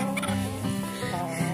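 Backyard hens clucking close by, a steady run of soft, overlapping clucks and low chatter from several birds through the whole short stretch.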